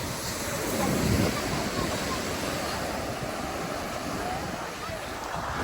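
Surf rolls onto Kapil beach at Varkala in a continuous broadband wash, with a swell of breaking wave early on and steady wind rumble throughout.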